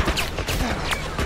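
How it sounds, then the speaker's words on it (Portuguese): Gunfire in The Last of Us video game: a short burst of several sharp, fairly quiet shots in quick irregular succession. "os tiros é forte"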